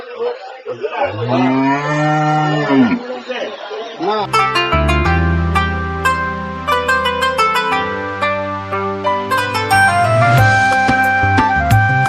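Cattle at a cattle market give a long, loud, close moo, followed by busy background music and crowd noise with voices talking over it.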